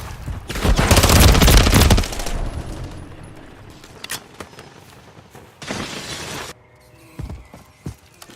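Bursts of automatic gunfire in Call of Duty: Modern Warfare 3, a loud sustained volley followed by scattered single shots and a second shorter burst, with fainter distant shots trailing off.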